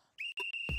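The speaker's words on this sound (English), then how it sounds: "On my whistle." A referee-style whistle is blown to start a ball-throwing game in a dating competition, giving three short, sharp, shrill blasts in quick succession, loud and close with no talk over it.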